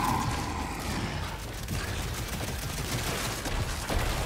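A Tri-Shot minigun in Gears 5 fires without pause, a dense, loud, rapid stream of shots that fills the whole stretch with no break.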